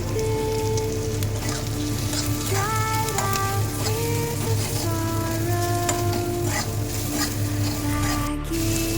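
Loud, continuous sizzling of curry leaves, turmeric and salt frying in a pan, with stirring scrapes and some background music tones.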